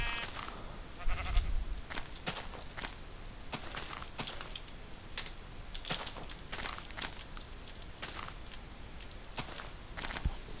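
Sheep bleat in Minecraft on a mountainside, with a few short blocky calls under a steady patter of footsteps on the ground. Light thuds and crunches run throughout, and no one speaks.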